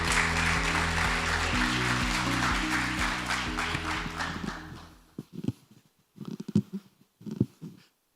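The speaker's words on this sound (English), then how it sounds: "please join me in welcoming him with a big round of applause" Applause from a forum audience in Seoul welcoming a speaker, a dense steady wash of clapping over a low stepped musical backing that breaks off after about five seconds, leaving scattered faint knocks.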